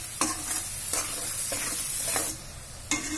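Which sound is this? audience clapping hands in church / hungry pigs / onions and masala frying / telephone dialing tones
onions and masala frying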